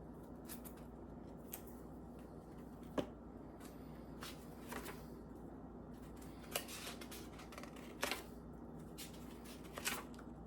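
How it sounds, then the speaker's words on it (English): A red checker-pattern crayon scratches across notebook paper while drawing a balloon, a faint steady scraping with occasional soft taps and clicks, close and quiet with no talk. "that's the recording I did of me drawing this balloon with the red checker pattern crayon"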